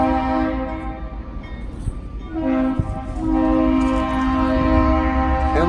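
A train passes close by with sustained, steady rumble and a long, loud horn blast holding a tone, swelling louder in the second half; no voices.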